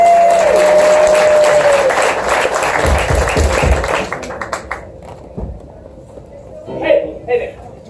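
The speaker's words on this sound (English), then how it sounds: "please, a big round of applause for the Theater of Public Policy" Audience applause for the Theater of Public Policy improv show, loud and dense at first, then thinning into scattered claps and fading, with a brief voice near the end.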